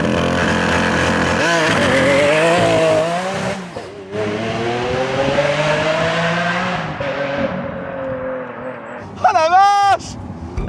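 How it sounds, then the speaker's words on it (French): A V12 car launches hard with launch control and spinning tyres: a loud, close engine roar climbs in pitch, dips at gear changes, then ends in a sharp revving burst. "Est-ce qu'on s'offre un seul launch control dans notre vie?"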